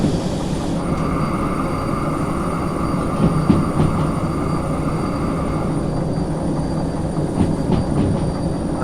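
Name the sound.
train rolling on rails in Derail Valley video game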